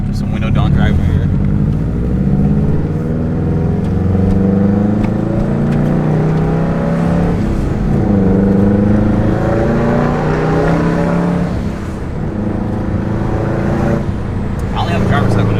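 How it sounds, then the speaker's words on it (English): A 2005 Subaru Impreza WRX STi with a Tomei exhaust drives with the driver's window down, its loud droning engine note rising and falling through gear changes, heard close from inside the cabin. "Here's how the Tomei sounds, window down."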